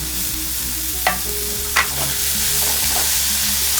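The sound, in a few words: carrot, onion, capsicum, tomato, paneer sautéing in butter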